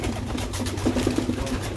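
Rooftop pigeons cooing softly, a few low murmuring calls clustered near the middle over a steady background hum, fairly close.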